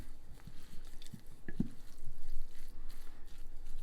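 Soft wet squishing and sticky stirring come from hash browns being mixed with lard in a deep pie dish, a few close, quiet squelches over a faint background.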